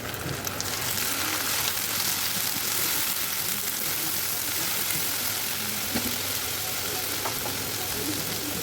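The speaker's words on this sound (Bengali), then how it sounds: "এরপর ব্লেন্ড করা পেঁয়াজের পেস্ট দিয়ে একটু ভালো করে ভেজে নিলাম।" Blended onion paste frying in hot oil in a pan: a loud, continuous, dense sizzle and crackle with no pauses, heard close and steady throughout.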